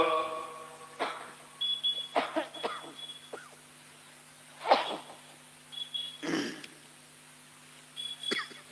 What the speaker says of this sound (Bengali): কাশি হচ্ছে মাঝে মাঝে, এটা অসুখ হয়েছে আমার